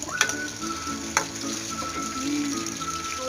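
Pieces frying in hot oil until golden brown, a continuous close sizzle with a couple of sharp utensil clicks early on and no voices.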